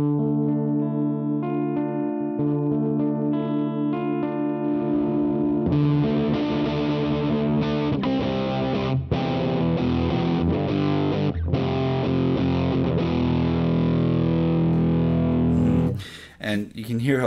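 Electric guitar played through a Roy Electronics Fantasio fuzz pedal: a thick, sustained fuzzy chord rings out, then a busier run of distorted strummed notes continues loudly before cutting off near the end.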